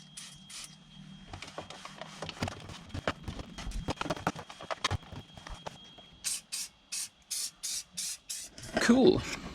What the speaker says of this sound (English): just an aerosol spray.